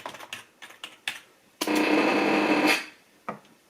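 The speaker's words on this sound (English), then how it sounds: "You just type it on the keyboard and hit enter" Keys clatter on a computer keyboard beside a LoRa radio setup: a few scattered taps, then a dense burst of rapid typing lasting about a second, followed by a couple more isolated strokes, close and clear with no talking.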